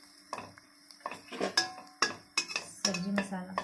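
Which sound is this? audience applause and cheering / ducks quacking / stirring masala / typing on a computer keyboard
stirring masala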